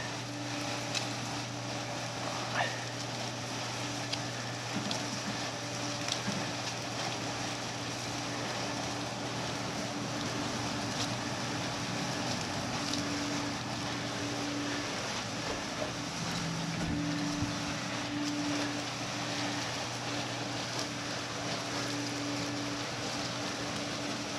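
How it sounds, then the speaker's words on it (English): A cellulose insulation blowing machine runs with 100 feet of hose attached and is not blowing well, a continuous droning mechanical hum with rushing air noise, steady throughout. "You got 100 foot of hose in a machine that ain't blowing good."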